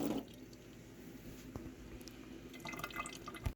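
Potatoes and onions rinsing in a kitchen, with soft water trickling and dripping steadily, a brief splash near the middle and more agitated sloshing toward the end, close and fairly quiet.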